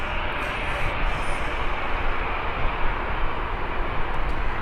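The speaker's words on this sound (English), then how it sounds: "it's a 737 following the A380 down the taxiway" A Boeing 737 taxis behind an A380 at Birmingham airport, giving a constant loud jet rush and whine that holds steady throughout without a break.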